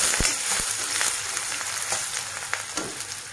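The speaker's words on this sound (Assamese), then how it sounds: "আধা হে ভাজিম পিয়াজ" Onions half-fried in a pan for a local chicken and long pepper curry, a steady close sizzle punctuated by several sharp knocks and scrapes of a stirring utensil.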